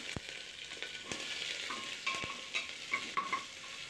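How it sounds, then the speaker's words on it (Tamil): Chopped onions sauté in hot oil with curry leaves in a pan, a soft sizzle broken by several sharp clicks and scrapes of a spoon stirring, quiet and close with no voices. "இப்போ நம்ம கட் பண்ணி வச்சிருக்க வெங்காயத்தை சேர்த்துக்கலாம்"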